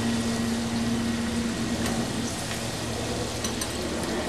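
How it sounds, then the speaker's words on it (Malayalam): Chicken samosas deep-frying in hot oil give a steady, close sizzle and crackle that carries on unbroken the whole way through, with a low background hum beneath. "നമുക്ക് ആ ചൂടായ എണ്ണയിലേക്ക് ഓരോന്നും ഇട്ട് ഫ്രൈ ചെയ്തെടുക്കാം"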